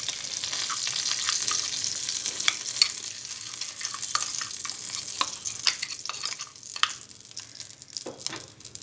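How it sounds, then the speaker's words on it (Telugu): Ground sesame paste frying in the oil left from frying eggplants gives a steady close sizzle, with scattered sharp crackles and soft scraping stirs across the whole stretch. "వంకాయలు ఫ్రై చేసుకున్న ఇదే ఆయిల్లో మనం ముందుగా మిక్సీ పట్టిన నువ్వుల మిశ్రమం వేసుకొని ఫ్రై చేయాలి"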